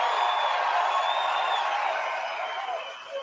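Large crowd at a political rally cheering and roaring steadily, a dense continuous wash of voices that stays loud throughout and eases slightly toward the end.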